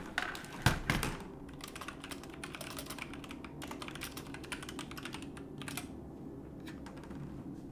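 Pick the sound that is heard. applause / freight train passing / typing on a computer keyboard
typing on a computer keyboard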